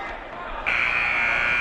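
During a junior varsity high school basketball game, a loud electronic buzzer blares steadily to end the third period, cutting in sharply and holding on under an announcer's talk.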